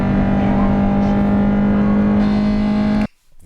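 A Honda NSX's naturally aspirated V6 holds a loud, sustained high-rev drone heard from the interior, the VTEC note steady for about three seconds before cutting off abruptly to near silence.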